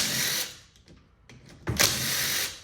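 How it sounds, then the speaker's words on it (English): A power tool backs out the case half screws of a KZ, ROK or IAME shifter kart engine, two close whirring bursts separated by a brief pause with a few small clicks. "the screws for the 2 case halves are ready to be pulled out"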